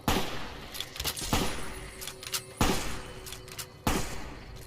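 Gunfire in Fallout: New Vegas: a few sharp, loud shots spaced irregularly, each with a short booming tail, over a low game ambience.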